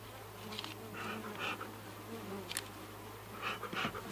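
Honey bees buzzing around an open horizontal hive during feeding, a steady faint drone with individual bees swelling louder as they pass close by.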